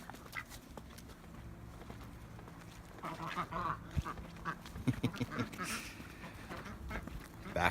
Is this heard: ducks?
yes